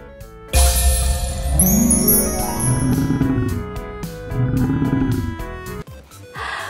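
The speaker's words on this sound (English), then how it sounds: "Huge lion on my bed." A lion roar sound effect in a children's pretend-play story, a deep drawn-out growling roar repeated twice over a bright jingling musical backing.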